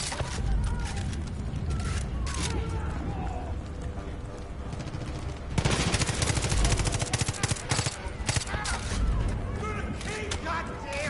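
Rapid video game gunfire rattles in dense bursts of automatic shots, loud and close, growing heavier midway through while someone talks over it.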